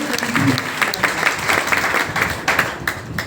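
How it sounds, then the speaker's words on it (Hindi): An audience at a life-changing seminar program breaks into hearty applause for a guest, many hands clapping continuously with dense, close, lively texture. "हमारे हेमेंद्र जी के लिए ताली बजाइए"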